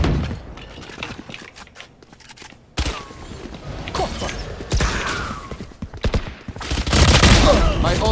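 Rapid gunfire crackles in Valorant, with bursts of shots, mechanical clicks and impacts, loud and close over a busy game soundscape with intermittent talk.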